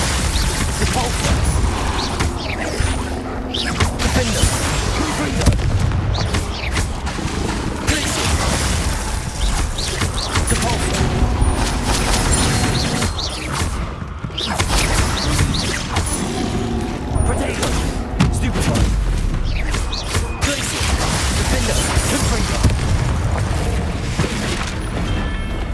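Repeated magical spell blasts and booms from combat in Hogwarts Legacy, a dense, loud barrage of bursts and crashes throughout with a shouting voice calling out spells over the continuous din.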